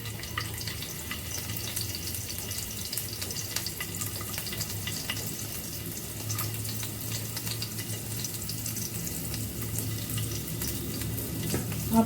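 Garlic sizzles steadily in oil in a pan, a dense, even frying hiss that continues close up with small crackles and no pauses.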